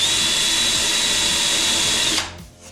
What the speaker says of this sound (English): And so you'll do a little countersink.